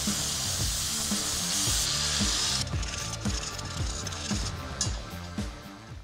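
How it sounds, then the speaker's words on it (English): An angle grinder fitted with a sanding disc grinds surface rust off bare metal ahead of welding an oxygen sensor bung. The abrasive scraping is loud and close and runs continuously, with rhythmic passes and no speech. "I'm just going to take my angle grinder with one of these sanding discs and just clean up any surface rust off this metal"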